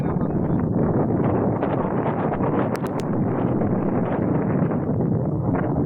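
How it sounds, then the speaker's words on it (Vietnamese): Strong wind gusts on a sandy beach along the Ha Tinh coast, roaring and buffeting the microphone loudly and continuously, with a faint rustling texture throughout. "Gió rất mạnh, nó cuốn cát quật vào chân mà rát luôn."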